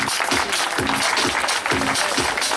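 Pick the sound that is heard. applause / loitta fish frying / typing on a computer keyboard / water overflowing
applause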